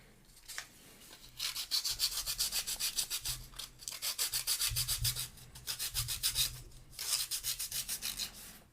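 Wooden parts of a Ugears Mechanical Celesta model kit being sanded by hand, with repeated rhythmic scratchy rubbing strokes in several bursts separated by short pauses, close and fairly loud.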